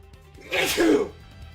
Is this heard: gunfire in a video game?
no